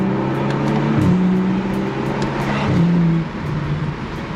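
A BMW 435i M-Sport fitted with an Akrapovic exhaust roars loudly past at close range, engine pitch stepping down through downshifts with brief revving blips, over steady road noise.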